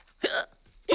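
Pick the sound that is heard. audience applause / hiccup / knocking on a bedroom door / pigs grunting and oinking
hiccup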